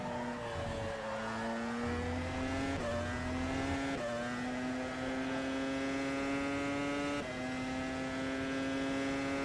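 A Formula Pro open-wheel race car in rFactor 2 drones at high revs with a steady, whining engine tone, stepping up through gear changes as it accelerates along a long run, heard alone and continuous.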